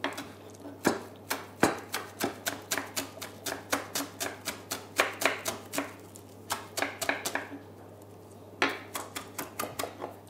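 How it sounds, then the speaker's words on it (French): Knife chops parsley finely on a cutting board in quick, even rhythmic strokes, close and crisp, with one short pause before the chopping resumes; no voices. "Je vais préparer un petit hachis de persil."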